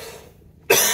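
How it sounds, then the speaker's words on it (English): One sharp, close cough bursts out loudly after a short stretch of near-silence. "start coughing more."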